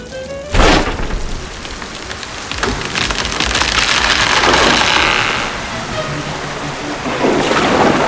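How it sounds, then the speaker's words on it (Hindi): Heavy, dangerous rain pours steadily in an animated Hindi cartoon, a loud continuous hiss of downpour with a sharp crash near the start and a few later impacts, no voices over it. "3 दिन से चल रही है ये खतरनाक बारिश"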